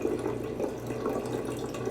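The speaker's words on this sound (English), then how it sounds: "I'm going to add the water to my jug." Water pours steadily into a jug for pancake batter, a continuous close splashing flow with no pauses and no voices.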